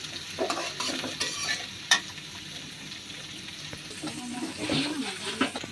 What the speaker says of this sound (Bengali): এবার এতে পেঁয়াজ কুচি, কাঁচামরিচ ফালি দিয়ে নেড়ে নিচ্ছি।